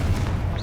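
Confringo fire spell from Hogwarts Legacy, a short heavy blast with a low thudding rumble, heard in a brief burst within ongoing game combat.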